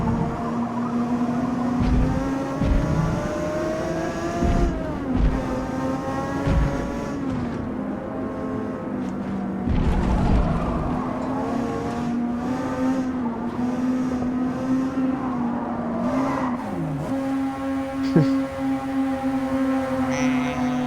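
A race car engine in the video game Forza Motorsport revs hard and continuously, its pitch rising and dropping through gear changes, loud and close for the whole stretch with no talk over it.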